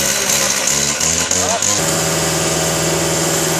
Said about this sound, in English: we're just going to use the brick saw.